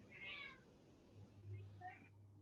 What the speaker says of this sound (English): I think your cat is hungry.